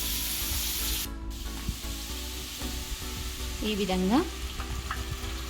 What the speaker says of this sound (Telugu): నూనె వేడెక్కిన తర్వాత కొంచెంగా పిండిని తీసుకొని ఇందులోకి బూందీని వేసుకోవాలి.